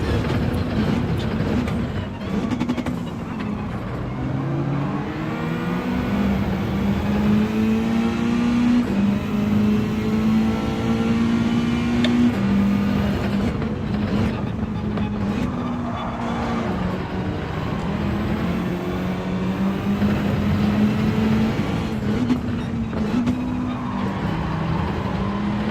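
Race car engine in Gran Turismo 7 during a daily online race, a loud, continuous, close droning whine that rises and dips in pitch through gear changes and corners, with no talking.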